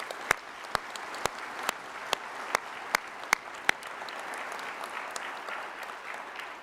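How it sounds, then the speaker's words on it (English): Audience applause for faculty and staff at a School of Dentistry commencement ceremony: a soft, diffuse wash of clapping with a few sharp, close individual claps standing out in the first half. "let's give them a round of applause as well"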